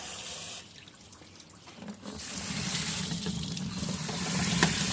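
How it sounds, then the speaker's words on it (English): A vibratory tumbler bowl is filled from a tap. A quieter trickle swells after a couple of seconds into a strong, steady stream of water pouring into the bowl nearby. "Now I'm going to fill it up with water and put it on the back here."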